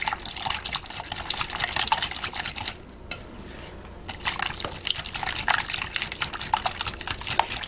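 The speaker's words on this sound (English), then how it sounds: "I just need my whisk. And we're going to whisk this up." A whisk stirs apple bread batter with applesauce in a bowl, giving quick wet scraping and clinking strokes close by with a brief pause midway, and no talking.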